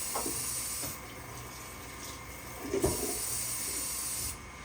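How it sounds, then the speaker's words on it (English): A cutting board being rinsed under a running kitchen tap: a steady, close water hiss with a few soft knocks and splashes as the board shifts, the flow cutting off near the end. "Use the same cutting board. Just rinse it off."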